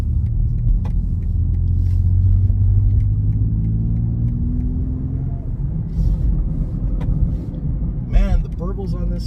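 A 2021 BMW X3 M Competition engine drones steadily from inside the car on a highway run, a loud low rumble with rising tone as it accelerates, with a few faint clicks and a brief voice near the end.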